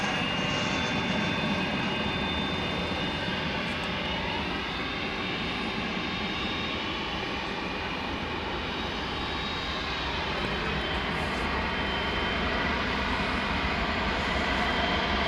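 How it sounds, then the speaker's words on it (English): Engines of a trijet airliner taxiing at DFW Airport at night give a continuous loud roar with a high whine that slowly bends in pitch, steady throughout with no talk. "We've got our other trijet on the move."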